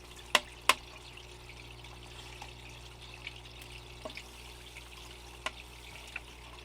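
Water trickles and runs through a gold sluice outdoors, a soft, steady flow with a few sharp clicks and taps scattered over it.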